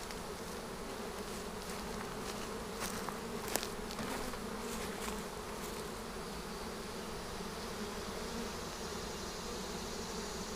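A swarm of honey bees fills a swarm box with a dense, steady buzzing hum that continues unbroken and close for the whole stretch.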